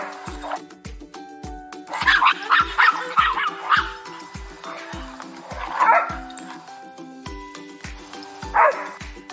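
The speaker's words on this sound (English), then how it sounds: "dog," A dog barks and yips in several short bursts over a steady rhythmic thumping beat, with whimpering tones between the barks, set within a sequence of farm animal sounds.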